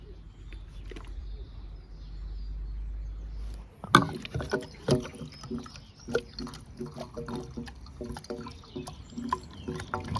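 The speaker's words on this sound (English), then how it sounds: "First of all is Cataclean. Let's dump it in the fuel tank." Cataclean fuel additive is poured from a bottle into the fuel tank of a Range Rover, giving a run of close, irregular glugging and splashing bursts after a low steady hum.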